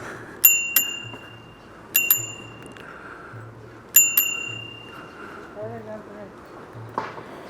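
A bicycle bell rings in quick double dings, repeated three times, over faint street ambience and soft background voices, on a bike path in Şarköy, Turkey.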